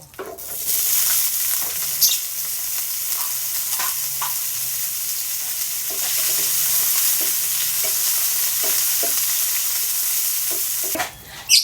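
Sausage sizzles in hot oil in a pan, a steady broadband frying hiss running throughout with occasional scrapes and clinks of a utensil stirring, close and alone with no voices.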